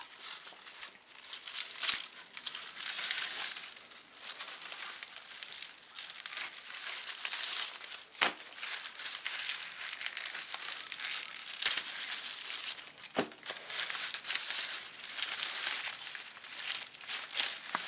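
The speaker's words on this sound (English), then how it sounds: "So we're just cutting the tops off of these here." Dried tops being cut off onion bulbs, with steady crisp rustling and crinkling of the papery stalks and a few sharper snips, up close and continuous.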